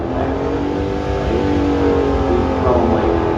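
A Dodge Hellcat engine roars at a drag strip, a loud, steady, deep revving drone held close throughout with slight pitch rises.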